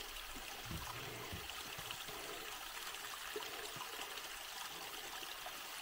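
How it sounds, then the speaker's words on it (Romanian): A forest stream in Vermont trickles and babbles in a steady, soft wash of running water that continues without a break, with no voices over it. "Am ajuns la pârâul de apă și Costin o să se ducă să încerce să umple"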